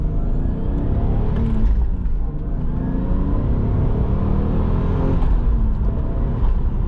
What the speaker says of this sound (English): That small turbo is very, very vocal.